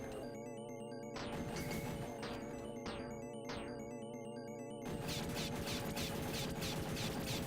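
Gunfire in the Aliens arcade game rattles in dense, fast bursts over busy electronic game music and swooping effects, growing heavier toward the end.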